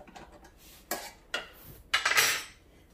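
Metal basket sliding into an Instant Pot air fryer oven, a few sharp clanks and scrapes of metal on metal, close and fairly quiet, with the last one being a longer scrape.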